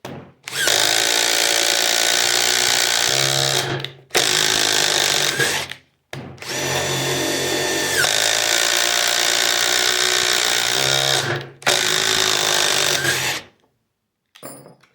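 A Milwaukee Gen3 M12 cordless impact driver whirs loudly in several long bursts, driving a 5/16 by 4-inch lag bolt, revving and straining under load, with brief pauses between runs.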